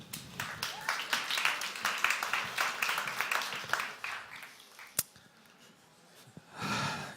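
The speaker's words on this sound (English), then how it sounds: "Warm applause." An audience at a fintech event applauding a speaker, a moderate burst of clapping that fades over about four seconds, followed by a sharp knock, a quiet pause and a soft rustling breath near the end.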